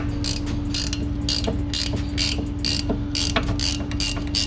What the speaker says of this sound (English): All we need to do now is just take these two bolts off.